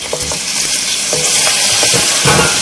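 Mutton pieces for aloo gosht tipped into browned onions in a pan, a loud close sizzle that swells steadily, with soft scraping and stirring knocks throughout and no talking.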